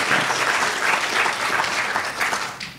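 Audience applause at a science comics talk event, a steady wash of many hands clapping close and loud for nearly three seconds, fading slightly at the end.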